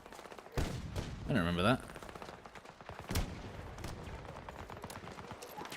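Gunfire from the Battlefield video game, with sharp shots cracking and bursts of rapid fire under a voice chatting over the action.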